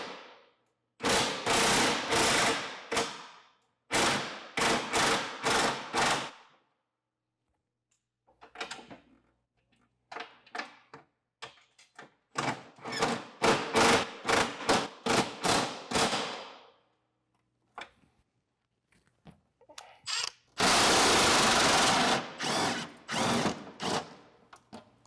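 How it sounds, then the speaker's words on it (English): An impact gun drives out the track bolts during a complete track change, firing in long rattling bursts separated by pauses, loud and close, with quieter clatter between runs. "It's nice to use an extension just to get the gun away from the running board"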